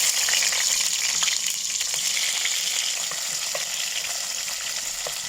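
Onion sautés in hot cooking oil for a vegetable biryani, a loud steady sizzle and frying hiss with occasional stirring clicks, close and continuous.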